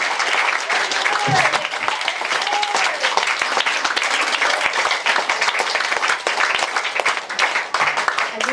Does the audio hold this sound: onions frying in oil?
no